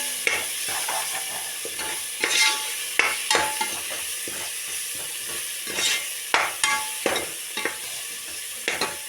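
Masala with garam masala for chicken biryani sizzles in a pan while a spoon stirs it, producing repeated close scraping strokes in bursts over a steady hiss, with no one talking.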